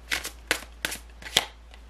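Tarot cards shuffled and drawn by hand, four crisp riffling flicks in an uneven rhythm, close and clear against near silence.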